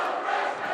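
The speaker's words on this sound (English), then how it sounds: "I was waiting for that cheer" A volleyball crowd at a high school match cheers in a brief, steady roar of many voices, loud and sustained.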